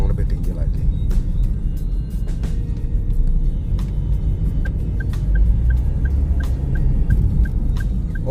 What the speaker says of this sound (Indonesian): karena ini mesin 3 silinder ya, suara jadi pada saat idle atau mungkin pada saat kita akselerasi sedikit agak terasa karena 3 silinder